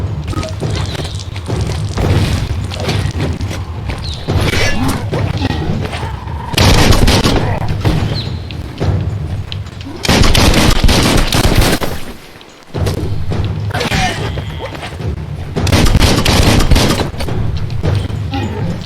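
Gunfire in the video game Biomutant, dense loud bursts of shots and booms coming in repeated volleys, with short gaps between them.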